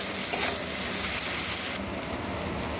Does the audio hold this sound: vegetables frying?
yes